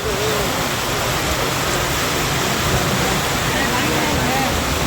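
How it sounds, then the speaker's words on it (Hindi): Heavy rain in Bangalore pours in a dense, unbroken roar, loud and steady throughout with no pauses. "जोर से बारिश पड़ रहा है"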